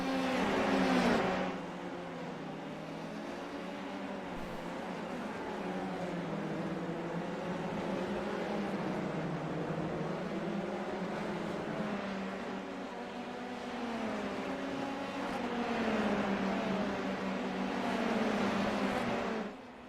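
Formula 3 race cars at the German Grand Prix in a racing video game, engines droning steadily with shifting pitch through corners, several cars running close together under no talk.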